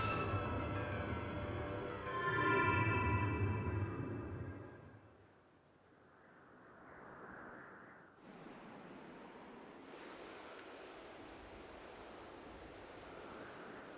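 A gust of wind in The Legend of Zelda: Skyward Sword HD video game, a soft rushing, breathy whoosh that swells, dips, then settles into a steady airy hiss after a louder tonal game effect at the start.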